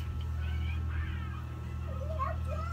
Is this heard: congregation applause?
no